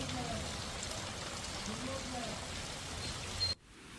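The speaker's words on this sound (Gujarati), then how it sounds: "નડિયાદ સહિત આસપાસના વિસ્તારોમાં વરસાદ થયો" Steady rain falling over a rural area near Nadiad, a dense even hiss that holds throughout before cutting off abruptly near the end.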